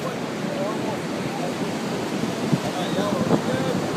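Ocean waves wash steadily onto a beach in a continuous broadband roar, with faint voices in the background.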